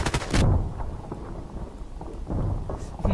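An AK-12 rifle fires in the video game Contract Wars: a loud, booming burst at the start, then a rumbling lull, then another heavy burst near the end.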